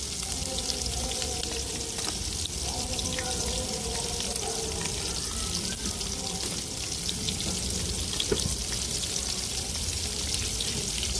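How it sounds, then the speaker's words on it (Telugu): Boiled chicken pieces stirred into curry gravy in a pan, a steady loud bubbling sizzle with occasional soft scrapes from stirring, continuous and close throughout. "చికెన్ ముక్కలకి ఈ గ్రేవీ మొత్తం పట్టే విధంగా కలిపేసుకోవాలి."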